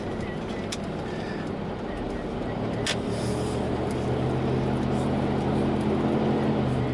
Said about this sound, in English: It's going to take a while for my car to warm up